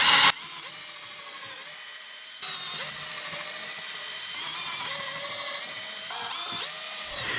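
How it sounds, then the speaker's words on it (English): A power drill whirs steadily in several bursts while drilling holes in a sawhorse build, the motor pitch rising as it spins up, close and fairly loud with no talking. "now you can drill the rest of your 3 holes"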